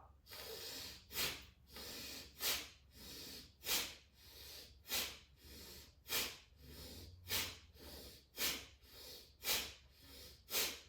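Slow rhythmic breathing during seated yoga shoulder shrugs, a series of about a dozen sharp nasal inhales and exhales, evenly spaced and close, with a soft hiss in between.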